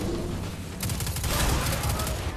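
Enemy gunfire in Destiny 2, a loud burst of rapid shots starting partway through and continuing over steady game noise, with no talking.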